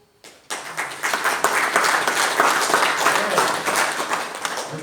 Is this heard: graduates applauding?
yes